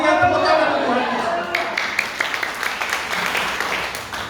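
Church congregation clapping for Jesus during a sermon, a steady wash of many hands applauding together for several seconds, with a voice still audible over it at the start.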